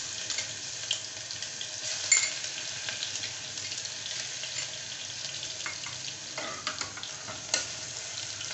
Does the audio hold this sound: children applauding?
no